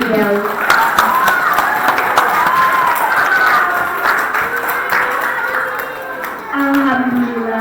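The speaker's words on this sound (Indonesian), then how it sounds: "Tepuk tangan yang meriah untuk beliau." A school audience at an Isra' Mi'raj gathering claps for a speaker. The clapping is lively but loose and uneven, with a voice and some tonal sound running over it throughout.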